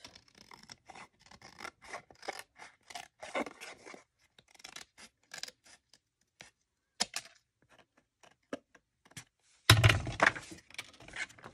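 Scissors trimming the edge of a paper insect slider card, a long run of quick dry snips and scratchy cuts close by, then a louder rustling handling noise near the end.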